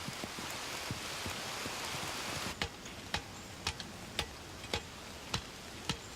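Steady hiss of rain gives way to sparse, sharp drips tapping at a slow regular pace, fairly quiet and nearby, with no talking.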